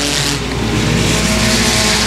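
Four-cylinder race cars, including a Mitsubishi Eclipse, roar around the Boothill Speedway track in a heat race, a loud, dense, continuous engine drone close by with no voices.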